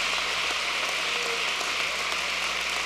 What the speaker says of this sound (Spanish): Un aplauso fuerte a la gente que bendice hacia abajo.